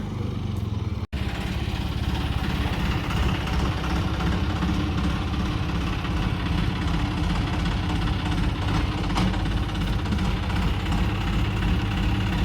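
A John Deere 5405 tractor engine idles nearby in a steady, low, throbbing rumble that holds unchanged throughout, loud and continuous, with no talking.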